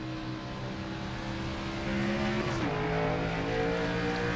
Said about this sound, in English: A couple cars out there already running some practice laps.